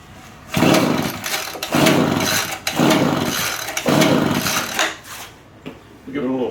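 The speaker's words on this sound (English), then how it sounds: "So I'm going to go ahead and try and start it now." Leaf blower engine being pulled to start while choked and apparently flooded, four or five rhythmic recoil pulls with whirring cranking bursts that never catch, close and loud, then a brief pause and a voice at the end.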